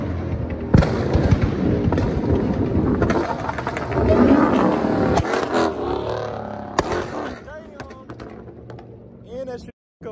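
A Chrysler's revving engine with a flame tune pops and bangs with loud, sharp backfire cracks, a few spaced explosions over the roar, while people talk and exclaim nearby.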